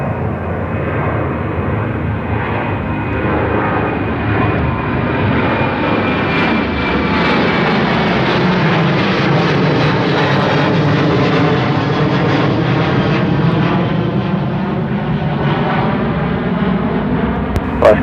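A jet airliner takes off from runway 34 right at Seattle-Tacoma International Airport, a loud, sustained engine roar that swells and shifts in pitch as it passes and holds steady across the whole stretch.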